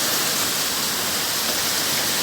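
Heavy rain pours steadily over an outdoor public kitchen in Banda Aceh, a dense unbroken hiss of downpour close by with no voices.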